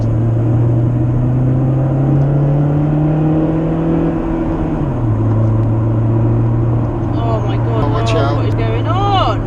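Custom exhaust on a rare Toyota Avensis SR gives a steady low droning note with a slight pitch rise and fall, heard from inside the car with people talking over it.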